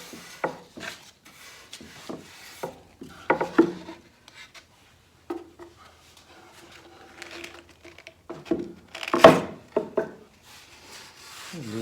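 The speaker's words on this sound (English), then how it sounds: "You may notice I'm being a little aggressive with the sandpaper here. I'm actually rounding off these corners a little bit too." Sandpaper scrapes over the corners of a wooden demilune table as they are rounded off, giving intermittent rough rubbing strokes in short bursts, fairly close and quiet, with pauses between passes.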